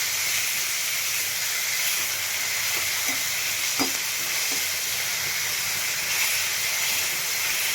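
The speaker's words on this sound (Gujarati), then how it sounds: "હવે આપણે આ ભાજી એડ કરી દઈશું. આપણે મિક્સ કરી લઈશું ભાજીને." Fenugreek leaves for methi bhaji with chickpea flour hiss and sizzle in a hot pan, a dense continuous frying noise close by, marked by a few soft clicks of stirring and no voices.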